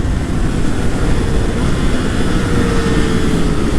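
An MV Agusta 800 Dragster RR motorcycle engine pulls hard in second gear in race mode, a loud, steady, continuous roar heard close up from the rider's seat with rushing wind noise throughout.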